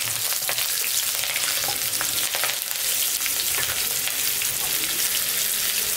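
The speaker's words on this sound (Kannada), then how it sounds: "ಇವಾಗ ಎಣ್ಣೆ ಕಾದಿದೆ. ಸಾಸಿವೆ ಹಾಕ್ತೀನಿ" Mustard seeds, chana dal and green chillies temper in hot oil for vegetable upma, making a loud steady sizzle with fine crackling spatter throughout and light stirring underneath.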